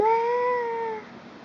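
A young child imitates a cat with a single drawn-out meow-like cry, clear and close, sliding gently downward in pitch before fading.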